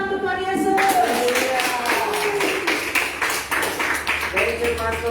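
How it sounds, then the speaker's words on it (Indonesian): Applause for Jesus at a children's church service in Batam: a crowd claps in a steady, scattered burst under a leader's voice, the clapping continuing throughout at moderate loudness. "Tepuk tangan untuk Tuhan Yesus."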